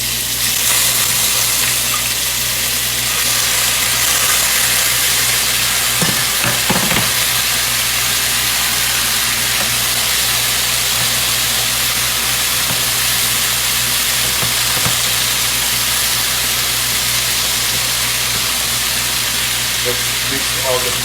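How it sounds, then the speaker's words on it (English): Ridge gourd (zhinga) fries in a pan with already-cooked potatoes for a Bengali posto dish, producing a loud, steady, dense sizzle that runs unbroken throughout with occasional faint stirring knocks. "I'm going to add the gourd or the Zhinga first, and then fry that for a few minutes."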